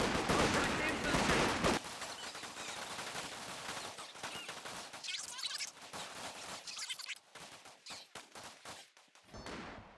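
Rifle fire in Company of Heroes 2, riflemen against Osttruppen at close range: dense, rapid gunshot volleys rattle continuously, loud at first and then thinning into scattered cracks and bursts.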